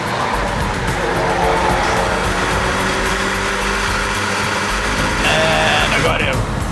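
Audi S3 petrol engine revving hard as it accelerates in a drag race against an Omoda C9, a loud continuous engine roar throughout with excited talk over it.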